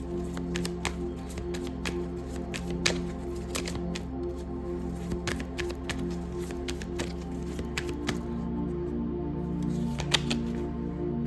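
Tarot cards are shuffled and laid out against a steady low hum, with soft card flicks and taps close by at irregular intervals and no talk.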